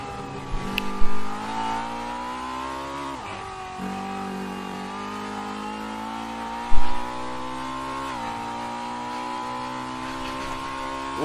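A Honda Accord MK5 touring car's engine drones and revs in the Assetto Corsa racing game, a buzzy, synthetic-sounding tone rising through the gears with brief dips at shifts and a couple of sharp thumps.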